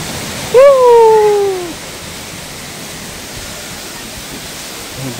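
Sundarijal waterfall in Kathmandu, a continuous broad rushing roar of falling water heard close, with a brief whistle-like tone rising over it near the start.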